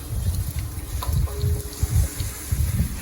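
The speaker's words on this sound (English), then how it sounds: "you're flushing out all the crud like you guys see there that came on" Water and loose sediment gush from a residential water heater's drain during a flush, a steady churning splash with uneven surges, heard close with no voices.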